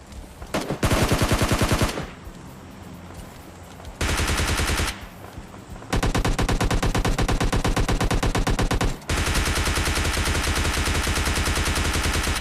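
Heavy, continuous automatic gunfire in the game PUBG Lite, in rapid bursts, loud and close, with a few short pauses between long sustained volleys.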